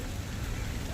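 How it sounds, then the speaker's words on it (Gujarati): Steady rain falling at Kankaria lake in Ahmedabad, a continuous dense hiss with low rumble throughout, no clear individual drops. "અત્યારે બારીશ ચાલુ છે."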